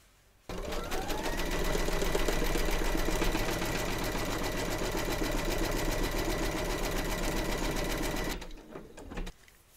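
A computerized embroidery machine runs a satin-stitch border around the edge of a music-themed bunting panel, a fast, even mechanical whir lasting about eight seconds before stopping abruptly, followed by a couple of small clicks.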